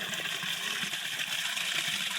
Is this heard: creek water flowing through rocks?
yes